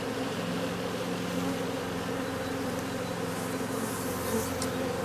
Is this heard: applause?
no